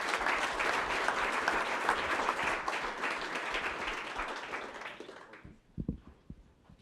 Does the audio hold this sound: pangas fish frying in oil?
no